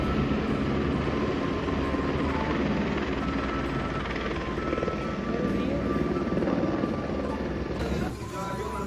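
A loud, steady helicopter engine and rotor drone continues throughout at a helipad on a family trip to Vaishno Devi, with people talking beneath it.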